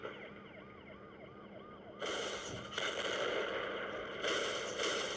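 In a Spider-Man video game, a police siren wails behind the player: rising and falling tones at first, then louder, harsher bursts that come and go, with no talk.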